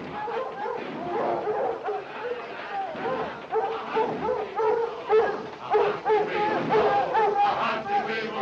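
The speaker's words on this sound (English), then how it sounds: "Who brought those dogs in here?" Several dogs on a train bark and yip excitedly, with whimpering mixed in. The barks come in repeated rapid bursts, loud and close, over a steady background of voices talking.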